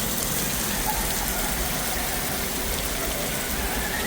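Heavy rain mixed with hail in a thunderstorm in Montréal, Canada, a steady dense roar of drops pelting the ground, loud and unbroken throughout, with no voices.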